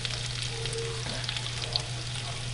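Onions caramelizing in a pan for French onion soup give a steady, close sizzle and fry with a constant low hum underneath, and one brief tonal squeak partway through.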